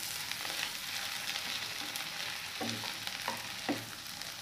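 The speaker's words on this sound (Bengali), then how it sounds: "দেখুন আমি অল্প তেলে এপিট উপিট ভালো করে বেজে নিয়েছি" Shrimp frying lightly in a little oil give a constant close sizzle, with several soft knocks and scrapes of turning them in the pan toward the end; no talking.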